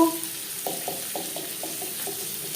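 Finely chopped medium onions hit hot oil, giving a steady soft sizzle with light stirring scrapes at regular intervals, faint and close.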